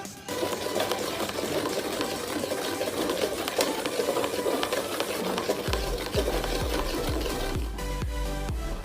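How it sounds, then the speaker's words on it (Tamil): Gram flour mixture for Mysore pak stirred in a pan on the stove, giving steady close scraping and swishing strokes with a faint sizzle throughout. "இப்போ அடுப்பில் வச்சு கிளற ஆரம்பிச்சிடலாம்"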